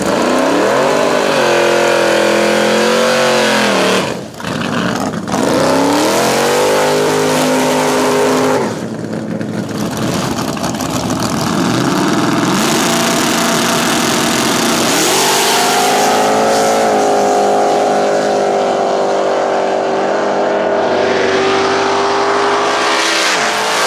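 Loud, close engines of no-prep drag race cars, including a nitrous-fed third-generation small block, roaring and revving through gear changes with brief lifts on a rough track surface.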